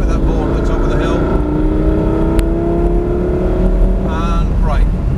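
A Lamborghini accelerating on a driving experience track, engine roaring loud and close with a rising pitch, under an instructor's talk.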